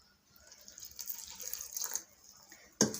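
Water splashes and trickles steadily as it is poured into flour for kneading dough, close by and moderately loud, ending with a sharp, brief clatter.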